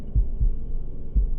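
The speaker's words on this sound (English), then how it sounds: "The heartbeat, it grew louder" Deep, muffled heartbeat thumping in slow double beats, throbbing low and heavy over a dark humming bed, steady and close.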